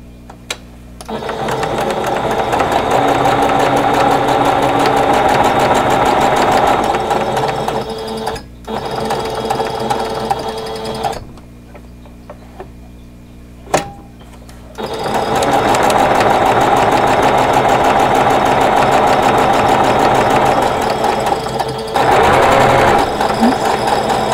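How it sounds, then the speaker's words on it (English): A sewing machine runs in long steady bursts as it chain-stitches quilt block pieces for a Cheyenne stash-buster block, with a few short pauses and quiet gaps between runs, loud and close with no talking. "Now I'm just going to turn the whole chain around and stitch the other side."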